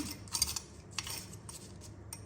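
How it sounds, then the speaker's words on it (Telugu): Gongura chutney with dried red chillies is pounded and mixed in a stone mortar, Andhra style: irregular grinding scrapes and light knocks at close range, fairly quiet, with no voices. "ఇలా కలుపుకుంటూ దంచుకుంటే"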